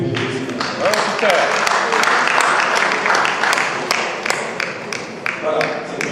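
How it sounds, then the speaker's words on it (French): At a general assembly meeting in a church, a crowd applauds Peter with scattered, fairly close hand claps over several seconds, while people keep talking underneath. "on peut l'applaudir parce qu'il fait beaucoup de"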